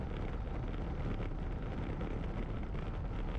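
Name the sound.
light wind during cycling time trial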